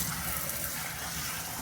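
Water runs steadily from a sink tap to rinse a removable container from an air-conditioning unit, a continuous close hiss and splash with no voices.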